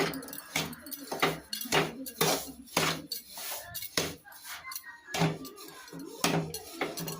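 Grated coconut and rava are mixed in a pan for rava laddu. A spoon scrapes and knocks against the metal in a steady run of distinct clatters, close and moderately loud.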